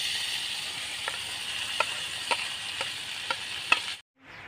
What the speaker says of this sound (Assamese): তেলখিনি গৰম হৈ গৈছে মই ইয়াতে এতিয়া পিঁয়াজ আৰু বিলাহীখিনি